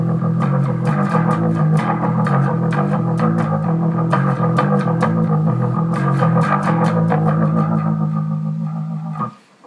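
Distorted bass through a Leslie rotary speaker pedal, with swirling, warbling modulation, plays a steady riff, loud and continuous, fading out at the very end.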